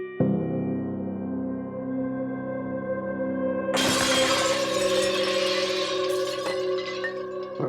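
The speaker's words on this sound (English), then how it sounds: "it sounds like the china cabinet falls over, smashing everything" A glass-filled china cabinet crashes over in a home, a sudden loud smash of breaking glass and crockery followed by seconds of tinkling, clattering shards, after a steady hum of a television in the room.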